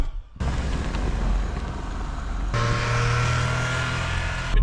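A vehicle drives along a road on a snowy winter camping trip, giving a steady close engine drone and road rumble that shifts to a stronger, harsher tone partway through.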